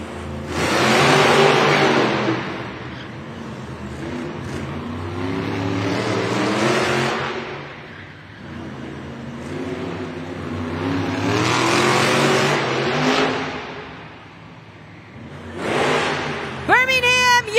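Monster trucks race at a Monster Jam event in Birmingham, UK, including Black Panther, with engines roaring and revving in loud surges that rise and fall, amid crowd noise and an announcer's voice.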